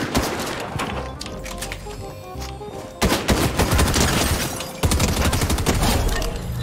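Rapid bursts of gunfire in the video game Fortnite, dense overlapping shots with louder volleys in the second half, continuous and close.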